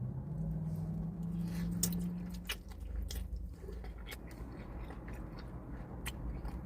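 Close, soft chewing and biting on takeout chow mein with carrots and cabbage, quiet wet mouth sounds in an irregular rhythm over a low hum.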